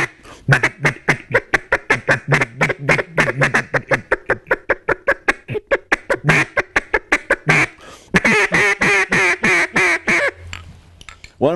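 A Quackhead mallard duck call blown in rapid, loud, close quacking runs, long cadences of sharp repeated quacks with a brief pause, then a faster chattering series, with no talking over it.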